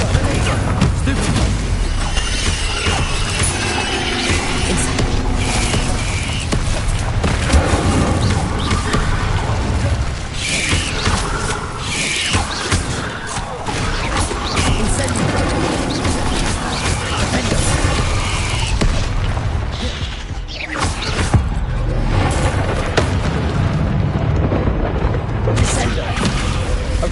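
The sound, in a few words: spell explosions in Hogwarts Legacy video game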